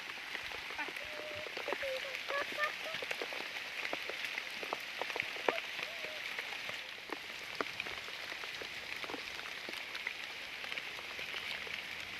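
Heavy rain pours down in a forest, a dense steady hiss of drops pattering on leaves and surfaces with scattered close ticks. Occasional faint voices sit under the downpour.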